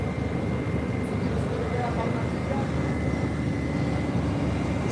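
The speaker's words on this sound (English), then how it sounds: "Got a Gulfstream G600 taxiing for departure." Gulfstream G600 business jet taxiing for departure at an airport, heard as a steady, broad engine rumble and whine that holds constant throughout, with some distant background voices.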